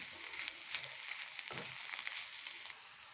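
Ginger paste sizzling softly in a pan as it is stirred into a bitter gourd curry, a faint steady crackle with a brief scrape of stirring midway.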